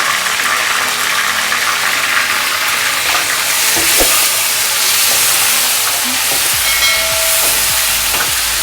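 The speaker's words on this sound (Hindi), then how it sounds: "दो मिनट में इसे अच्छी तरह से भून लूँगी प्याज में और लहसुन अदरक में।" Loud, steady sizzling of meat frying with onion and garlic-ginger paste in a hot pan, with bright hiss and occasional crackles and stirring scrapes throughout.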